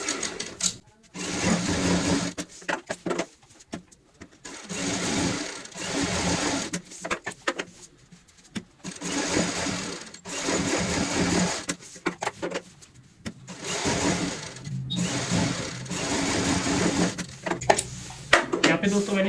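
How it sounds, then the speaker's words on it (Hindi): A sewing machine stitches a pillow cover in repeated runs of fast, even whirring lasting a few seconds each, separated by short pauses, close and clear alongside speech in Hindi. "अब हम एक एक करके हर निशान के ऊपर सिलाई लगाएंगे।"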